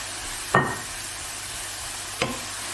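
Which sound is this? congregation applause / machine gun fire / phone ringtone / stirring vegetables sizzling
stirring vegetables sizzling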